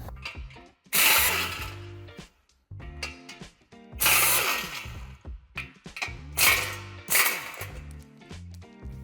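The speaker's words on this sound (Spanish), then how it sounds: "Quitaremos primeramente el tornillo y por el otro lado quitaremos los 3 tornillos que sujetan esta pieza." Power tool removing the screws that hold a Tesla tow hitch crossbar: several loud bursts of whirring and ratcheting fastening noise separated by brief pauses and clicks, close up, with no talk.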